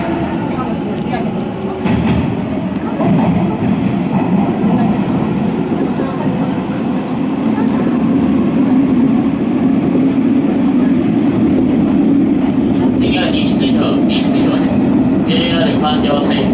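Hanshin rapid express train bound for Kobe-Sannomiya heard from inside the car, a steady loud rolling rumble with rail noise throughout, while onboard announcements and voices run over it.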